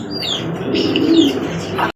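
Pigeons at a pigeon market coo up close, a soft rolling coo with faint chirps layered over a busy background, loud and continuous for about two seconds.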